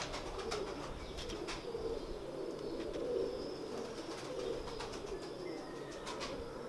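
Red-eyed pigeons coo softly and repeatedly in the background amid faint chirps and a few wing flutters, with no talk.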